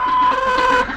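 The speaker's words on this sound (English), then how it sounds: "so here we got 20 chickens and 7 geese running around." A farmyard flock of twenty chickens alongside seven geese gives a single loud, sustained, nasal call close by, lasting about a second.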